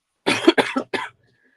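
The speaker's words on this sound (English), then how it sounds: "So excuse me coughing" A burst of four coughs close to the mic, the first two heavy and the last shorter, followed by quiet.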